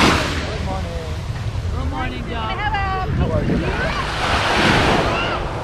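Ocean waves wash steadily onto a beach at General Santos City, with a broad surf roar swelling near the end, wind buffeting the microphone, and people talking over it.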